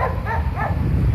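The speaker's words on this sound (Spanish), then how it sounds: "los perros que no han parado de ladrar desde que he venido" Dogs bark in short, quick yips over a low background rumble, a couple of barks in about a second, at Cabo de Gata, Spain.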